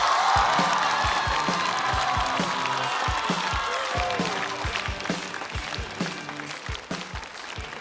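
Studio audience at a Chinese stand-up comedy show applauding to welcome a comedian onto the stage, dense loud clapping with some cheering that gradually thins and softens.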